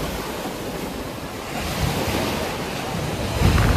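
Ocean waves at Devka Beach in Daman, a continuous broad surf wash with heavy wind buffeting the microphone, swelling louder toward the end.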